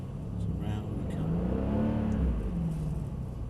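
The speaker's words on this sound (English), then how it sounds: "Gently on the power, just spinning the wheels up." A car accelerates gently with its wheels spinning on a slippery surface, a sustained engine drone rising and falling in pitch, with someone speaking over it throughout.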